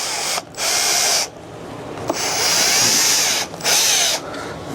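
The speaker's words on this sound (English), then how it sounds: "Why don't you just drill them all now?" A power drill boring holes during a furniture refinishing job, three whining bursts of drilling separated by short pauses, close and loud with no talking.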